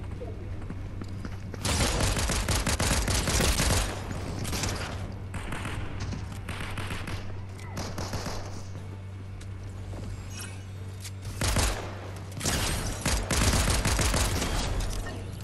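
Gunfire in the video game Fortnite comes in several loud, rapid bursts separated by quieter stretches, with sharp, rattling volleys from about two to four seconds, again around eight, and again near twelve to fifteen seconds.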